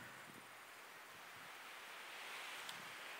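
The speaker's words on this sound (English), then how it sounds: "It's very windy out here, so I apologize for that." Steady rushing wind buffets the microphone outdoors in a garden, a continuous roaring hiss with no voices, swelling slightly toward the end.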